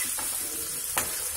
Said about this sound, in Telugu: ఈలోపు ఈ చేపలు వేయించుకున్నాం